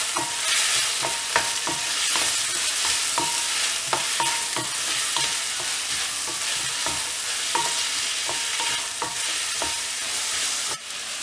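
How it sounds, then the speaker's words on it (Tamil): Tomatoes fry with onions and green chilies for a quail egg prawn curry, a loud, steady sizzle punctuated by frequent rhythmic clinks and scrapes of a spoon stirring against the pan, with no one speaking. "தக்காளி ஆட் பண்ணிட்டு நல்லா ஃப்ரை பண்ணனும்"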